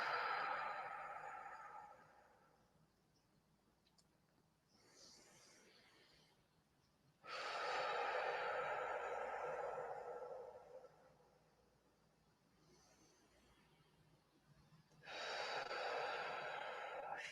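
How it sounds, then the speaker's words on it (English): Slow, deep meditative breathing, in through the nose and out through the mouth, during a guided spiritual session: three long, loud exhalations spaced several seconds apart, with quieter inhalations between them and no talking. "Let's take 3 deep breaths in through the nose, out through the mouth"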